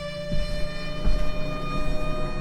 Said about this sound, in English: a loud siren went off outside the building